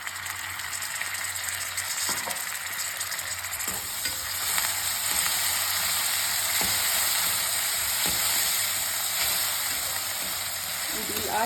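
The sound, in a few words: tomato frying in pan for puffed rice dish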